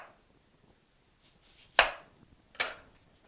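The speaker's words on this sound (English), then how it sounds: "The apple can then be sliced into rings. I'm cutting these about 1/4 of an inch thick." A knife cuts an apple into thin rings on a board. Two sharp, close chopping knocks land about a second apart over near silence, with a few faint scraping touches before them.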